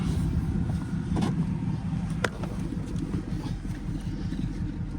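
A Ford Mustang Boss 302 with flood damage idles its V8 with a low, steady rumble, accompanied by a few faint clicks and background noise.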